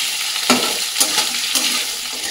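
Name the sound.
potatoes and carrots frying in oil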